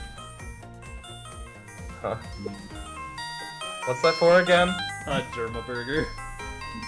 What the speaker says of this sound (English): I made my ringtone the Gen 5 cross transceiver ringtone recently